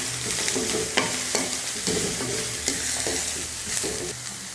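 Sliced onion, beetroot and carrot sizzle in a pan as a spoon stirs them, with rhythmic scraping knocks roughly every second over a constant close frying hiss.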